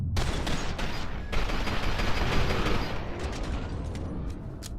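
Rapid, overlapping gunfire from F.E.A.R. 2 rings out as a dense, continuous barrage of shots, loud and close throughout, with no voices over it.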